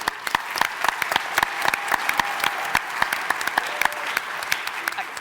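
Studio audience at a WBT radio 100th anniversary celebration applauding steadily, dense clapping with sharp individual claps standing out, fairly close and sustained throughout.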